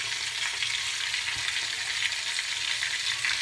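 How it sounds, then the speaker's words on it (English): Mushrooms frying in a pan give a steady, even sizzle with a soft crackle, fairly quiet and close, with no talking. "while the mushroom is frying, it usually emits its unusual odor"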